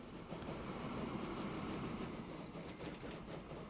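A train running in the Transport Fever 2 video game, a quiet rolling rumble of railcars with faint rhythmic wheel clatter and brief high squeals near the end, with no talking.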